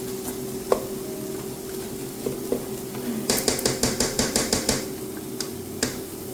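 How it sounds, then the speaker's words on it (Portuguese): Rice being sautéed with onion and garlic in a pan, with a steady low hiss and a run of quick clinking and scraping strokes of a utensil against the pan, close and fairly loud. "Tô refogando bem o arroz com a cebola e com alho."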